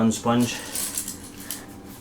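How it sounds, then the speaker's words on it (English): Metal keys jangle and clink against one another while being wiped down with a sponge during a kitchen cleaning session, producing a few sharp, close metallic rattles at the start and then softer scattered handling clicks. "I clean my keys."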